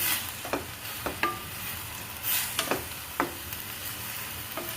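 Masala sizzles steadily in hot oil for a cabbage recipe, with a series of sharp scrapes and clinks from a spoon stirring the pan at irregular intervals, close and without any talk.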